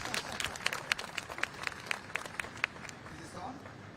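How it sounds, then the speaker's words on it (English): A small audience at a Honolulu Festival press conference gives a short round of applause, scattered sharp claps rising briefly and then thinning out, with people talking quietly over it. "A nice round of applause."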